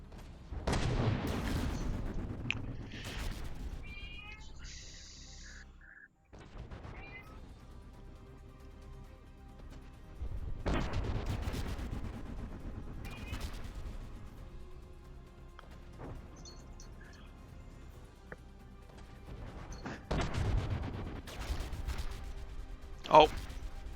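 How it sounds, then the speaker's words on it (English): Combat robot Dawnguard blasts plasma at rival robot Punchy in a Jet Jumble arena battle: three loud bursts of booming, crackling fire roughly ten seconds apart, over a steady background rumble with talk running beneath. "it's firing plasma at Punchy"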